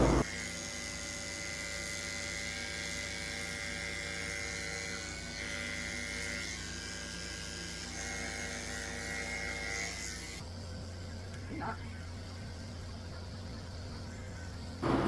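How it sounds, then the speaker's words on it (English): Electric clippers fitted with a 30 blade run on a toy poodle's matted paw pads during a summer shavedown, a steady close buzzing hum that shifts pitch as the blade meets the fur, with no voices. "I'm carefully shaving out his pads with a 30 blade"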